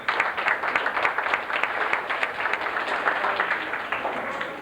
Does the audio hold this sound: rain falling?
no